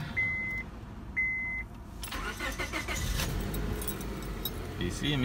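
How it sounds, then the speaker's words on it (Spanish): A car with a repaired, recharged battery: two short electronic beeps, keys and cabin clicks, then the engine cranks and catches into a steady idle, with a voice speaking partly over it. "Y sí, amigos, prendió el carro."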